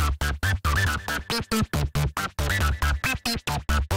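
A buzzy, robotic synthesizer lead plays short choppy notes in a quick rhythm, bright and gritty, with no talking.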